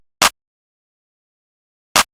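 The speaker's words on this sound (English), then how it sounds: "Then I added this simple clap pattern." Two sharp trap claps from a drum machine, each a short bright burst, spaced nearly two seconds apart with silence between.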